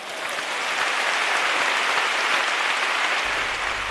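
A large audience gives a sustained, dense ovation during the Holy Week proclamation in Seville, the clapping steady and loud throughout with no voices over it.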